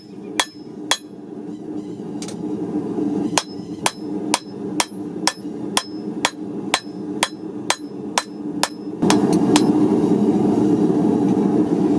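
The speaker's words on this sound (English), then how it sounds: "So I'm just finishing out the edge here. I got my lighter hammer." Sharp metallic strikes of a light hammer finishing a kitchen knife edge ring out in a steady rhythm, about one per second, with a brief pause early on, over a low background hum.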